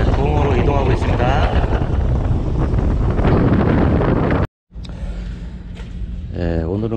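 A boat heads out at sea toward a fishing platform off Dobido, with strong, steady wind roaring across the microphone over a low rumble. The sound drops out briefly midway, and faint voices come through at moments.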